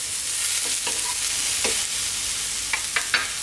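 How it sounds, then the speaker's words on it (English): Eggplant dry-fries in a hot pan for a spinach brinjal curry, giving a continuous close sizzle broken by a few brief scrapes of a spoon as it is stirred. "Give it a stir every now and then. Beautiful dry fry here."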